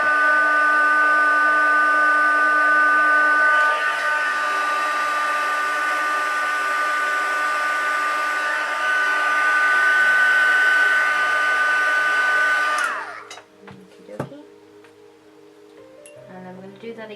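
A hair dryer blows steadily and loudly for about thirteen seconds while heat-setting blush on a face, then cuts off, leaving quieter handling noises.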